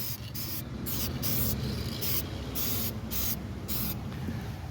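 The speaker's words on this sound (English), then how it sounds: "I just want a little bit of overspray to get on this" Aerosol spray paint hissing onto a car rim still mounted on a Lexus RC 350, in about eight short, loud bursts close by, each separated by brief pauses.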